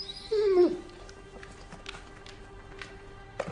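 A dog begging for food lets out a single close, pitched whimper, then small yips and faint sniffs follow in a quiet room, with one more brief whine at the end.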